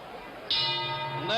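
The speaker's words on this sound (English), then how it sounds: "And there's the bell, and the prediction has failed." A boxing ring bell ending a round in the Joe Frazier versus Muhammad Ali fight clangs sharply twice over crowd noise and a commentator's voice, the strikes loud and ringing with lingering tone.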